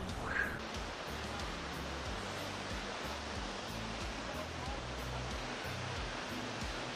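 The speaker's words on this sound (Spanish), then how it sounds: "Solo mira la escala de esa cascada." Water rushing from a failed, suddenly opened dam gate, a dense, continuous roar of cascading flow, steady and heavy throughout with no talk.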